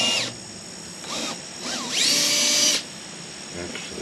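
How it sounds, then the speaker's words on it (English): Power drill boring 5/16 inch holes while mounting a mini-split compressor stand, with several short whining bursts that rise in pitch and one longer run, separated by brief pauses. "I'm drilling them at 5/16, which is about the size of the shank on a 3/8 inch bolt"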